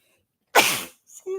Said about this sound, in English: I had to sneeze.